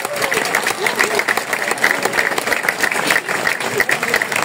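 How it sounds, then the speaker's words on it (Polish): Audience applause at an international accordion concert in Sulęczyno, a steady dense wash of many hands clapping, fairly close and loud, continuing evenly throughout. "Wielkie brawa."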